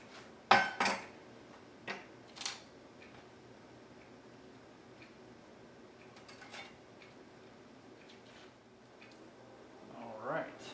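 Spaghetti squash goes into a bowl amid a few light clinks and knocks of utensils and dishware, close and quiet, separated by stretches of soft room noise.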